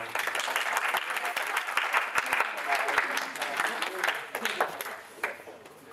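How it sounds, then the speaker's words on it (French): An audience applauds three schoolgirl presenters at a school science workshop presentation, a dense steady clapping that fades slightly toward the end, with some voices mixed in. "Ce sont trois jeunes demoiselles, Emma, Sylvana et Léane, qu'on applaudit bien fort."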